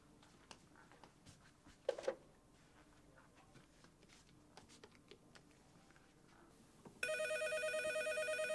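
A telephone suddenly starts ringing loudly with a steady electronic ring after several seconds of quiet household sounds, light tapping and a couple of clatters.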